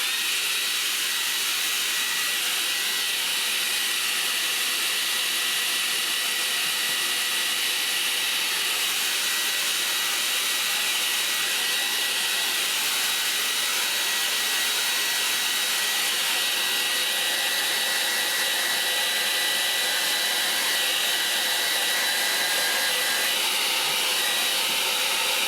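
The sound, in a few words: hair dryer blowing on a watercolour painting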